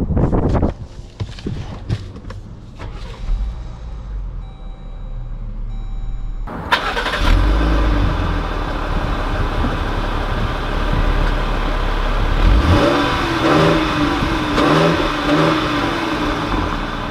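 A 2020 Dodge Durango SXT SUV cranks and fires up after a few quiet clicks, settles into a close, steady idle, then pulls away with a rising engine note as it starts driving.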